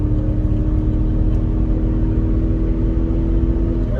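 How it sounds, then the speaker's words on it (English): A tuned Chevrolet Silverado engine with a raised rev limiter, winding out under acceleration: a loud, steady, low engine drone that holds without breaks from inside the cab, with no talk. "Just raising that rev limiter and letting it wind out a bit more before it shifts"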